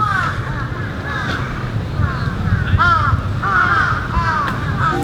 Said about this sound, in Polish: Kruki to są w ogóle tokijskie bydlaki śmierdziele